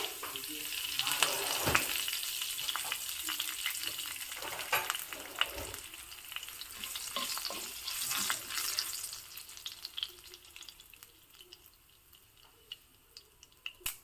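Dried chilli, curry leaves and garlic crackle and sizzle in hot oil for tempering, a continuous hiss dotted with sharp pops and spatters, close and fairly loud.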